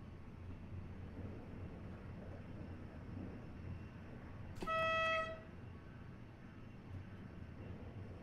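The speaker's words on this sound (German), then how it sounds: "bisschen gehupt oder gehornt im Tunnel" ICE high-speed train horn sounding inside a tunnel in Train Simulator Classics, one short loud tonal blast of about a second over a quiet rumbling running-noise background.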